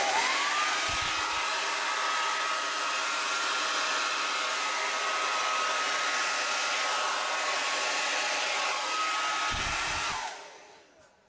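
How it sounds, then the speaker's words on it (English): A hair dryer on its high setting blows poured acrylic paint across a canvas, a loud steady whoosh running close and unbroken for about ten seconds before it cuts off, with a pair of brief clicks near the start and end. "we can get the hairdryer, and you need it on a cool setting, but I need to put mine on a high"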